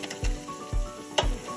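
Potatoes dropped into a hot pot of caramelizing pilau base sizzle steadily, with three soft thuds or clunks as the pieces land, the frying hiss continuing throughout.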